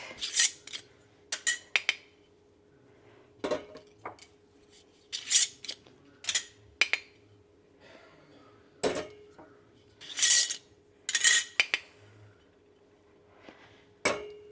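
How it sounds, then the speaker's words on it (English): Metal rings being twisted off sealed home-canned jars after pressure canning and the jars set down in a sink, a series of separate scrapes, rubs and light clinks close by with quiet gaps between. "I just take these rings off, make sure that I have a good seal so I can pick it up by the rim of the lid"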